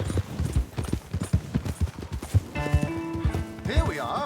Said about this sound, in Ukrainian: Прив'яжемо коней